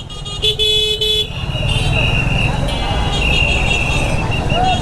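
Busy street traffic in a heavy jam in Rangpur city, engines and road noise filling the scene close by, with a sustained car horn toot near the start and further honks in the dense din, while someone talks over it.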